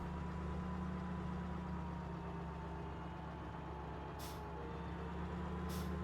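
A tractor engine idles in Farming Simulator 17, a steady low drone, with two short, sharp hisses of air brake release a second or so apart near the end.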